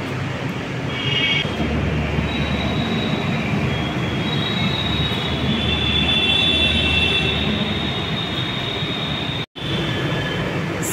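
A Kolkata Metro train rolls through a junction, switching from the Salt Lake Sector V line onto the Sealdah-bound line. It gives a loud, steady rumble with high wheel squeals and screeches over the points, heard close and continuous with one brief dropout near the end.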